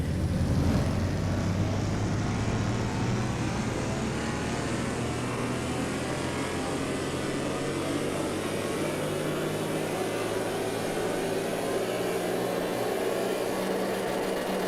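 A BMW E46 M3 engine from Car Mechanic Simulator holds a steady, droning rev on a dyno in the game, a continuous mechanical hum with a slowly shifting pitch, fairly loud and without talk.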